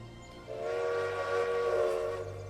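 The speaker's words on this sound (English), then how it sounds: "It is a dedicated freight train, which might be of use." Dedicated freight train in the railway game Railway Empire: Japan, a sustained tonal whistle or horn blast swelling in after a quiet start and holding steady over a low rumble, fairly faint and alone.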